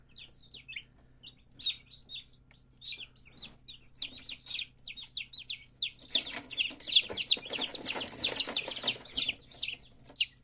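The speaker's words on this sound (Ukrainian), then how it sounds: "І курчатка наші лупляться." Many tiny newly hatched chicks peep in rapid high-pitched chirps, sparse at first and then a dense, busy chorus of cheeping up close.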